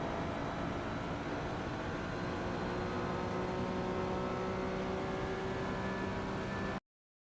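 Ferrari 296 racing car engine in the iRacing simulator at Monza, a steady loud high-pitched drone accelerating under full throttle without pause, no talking.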